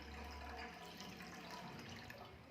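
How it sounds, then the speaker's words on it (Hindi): About two glasses of water are poured into a pan on a gas stove, a soft continuous splashing stream that is faint and steady, with no speech. "इसमें पानी डालेंगे"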